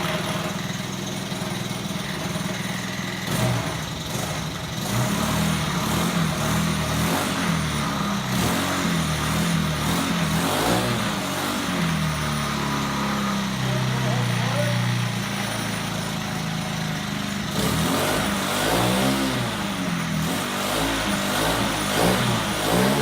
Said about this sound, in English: We've already hooked up the power for the starter. Okay, Jack, let's hit it. So I'm going to work the throttle.